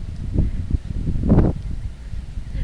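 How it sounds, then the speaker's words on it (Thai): Strong wind gusts through a home vegetable garden, a low buffeting rumble with rustling that swells to a louder gust midway and then eases off. "โอ้ลมแรงแล้ว ลมค่ะ ลมแรง"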